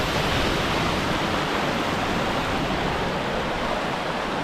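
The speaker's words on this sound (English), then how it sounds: "Let's see if we can get down and actually see the waterfall from the bottom." Ozone Falls in Tennessee roaring as a constant, loud wash of falling water, heard close and steady with no voices.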